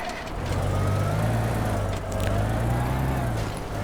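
Car engine in the video game Teardown, a steady low mechanical drone running throughout without a break, close and fairly loud, with faint scattered clunks on top.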